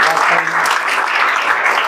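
An audience applauds a student during a JEE Main results class, a short burst of dense, loud clapping with a voice faintly under it.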